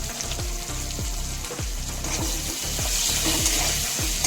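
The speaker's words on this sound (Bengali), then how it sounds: "পেঁয়াজগুলো খুব ভালো মতো করে ভেজে নিচ্ছি" Onions sizzle and crackle in hot oil, a steady frying hiss with periodic scraping stirs, close and alone.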